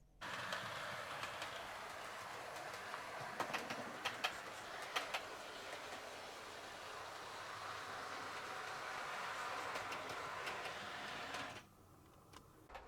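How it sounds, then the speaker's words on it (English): A small model train runs steadily along its track with a continuous rattling whir and occasional clicks, then the noise drops away sharply near the end. "The train has just left. There it goes."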